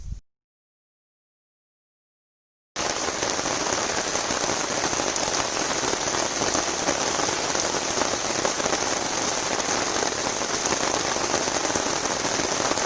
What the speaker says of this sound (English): There's the rain, and it's raining good.